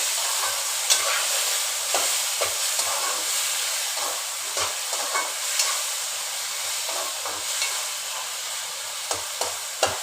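Ridge gourd (turai) cooking in a pan, with a steady hiss and sizzle of frying under repeated stirring and scraping clicks, fairly close and moderately loud, no talking.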